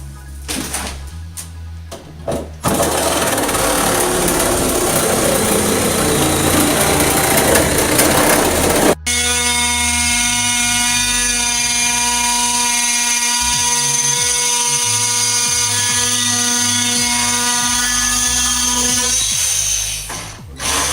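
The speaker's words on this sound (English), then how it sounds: "right now Lisa's cutting the vinyl off the edge of the tub" A power tool cutting vinyl off the edge of a bathtub during a bath remodel, a loud, steady high-pitched whine with gritty grinding, cutting out abruptly and restarting as a sustained tonal drone.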